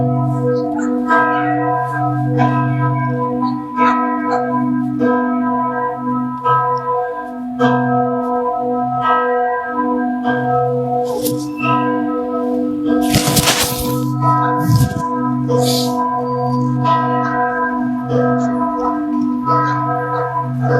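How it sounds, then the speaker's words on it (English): Church bells chime steadily for about twenty seconds, a loud, sustained pattern of ringing tones with overlapping resonance, broken midway by a short burst of crackling noise. "Let's listen to the bells to chime"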